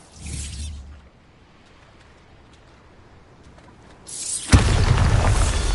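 A Bombarda spell explodes in Hogwarts Legacy. A short burst opens the moment, then near-silence, then a loud, close blast erupts and sustains as a roaring, crackling wash of debris to the end.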